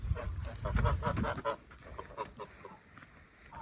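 Geese in a Russian village honk in a short burst of overlapping calls that thin out into a few scattered cries, fairly close by.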